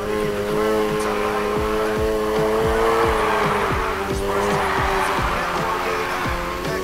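A car drifts in the racing game Need for Speed Heat, its engine droning steadily while tires squeal in repeated sweeping bursts through the whole stretch, loud and close.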